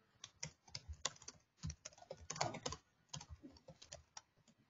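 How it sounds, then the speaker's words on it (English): Keys clatter steadily on a computer keyboard as a chat message is typed into a collaboration platform, quick uneven bursts of close, crisp clicks with short pauses and no voices. "And once you type a message here"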